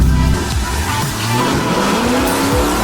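Tires squeal loudly as a Hellcat in a video game does a burnout, with engine roar and skidding tones sliding up and down over nearly three seconds.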